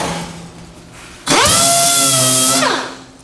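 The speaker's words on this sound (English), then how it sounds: "a little sanding." A power sander whirs up suddenly, runs with a loud, steady high-pitched buzz for over a second, then winds down while sanding metal on a 1948 Silver King Model 42 tractor; a quieter motor hum comes before it.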